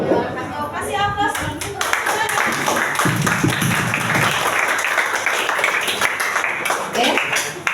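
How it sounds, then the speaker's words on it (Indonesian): A school class giving applause, a burst of clapping from many hands in a classroom, mixed with voices and chatter that continue around it. "Kasih aplaus."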